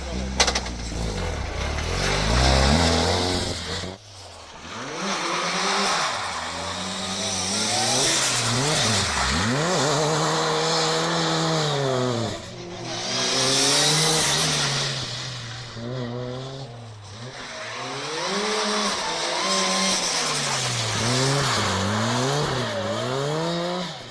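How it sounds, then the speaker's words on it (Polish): Toyota Corolla WRC rally car driving hard, engine revving up and down through gear changes with tire squeal, loud and close for over twenty seconds. "To jest mój nowy samochód rajdowy. Eee, wcześniej jeździłem Celiką, a teraz zbudowaliśmy Korolę WRC."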